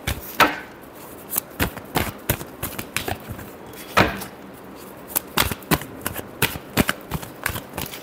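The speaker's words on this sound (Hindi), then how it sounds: "last shuffle" Tarot cards are shuffled by hand in a run of crisp riffling and slapping bursts, close and fairly loud, with two longer sweeps among quicker taps and no talking.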